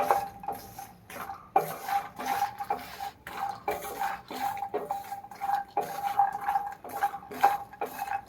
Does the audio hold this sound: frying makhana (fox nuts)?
yes